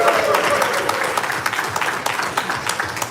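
A seminar audience at a Corvus Belli convention talk claps and cheers, a dense, steady wash of many hands and voices filling the room with no pauses.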